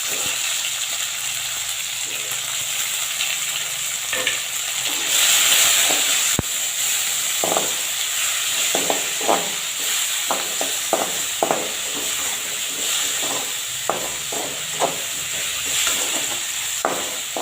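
Tomatoes fry in a pan for vathal kulambu, giving a steady bright sizzle with repeated stirring scrapes and clicks of a spoon, close and continuous, with no talking.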